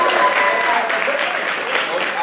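An audience at a high school award ceremony claps for a coach, with steady dense applause filling the room throughout and a murmur of voices beneath it.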